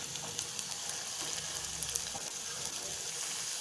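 Sugar candy dough frying in hot oil over a medium flame, a steady close sizzle with fine crackling bubbles that runs without a break.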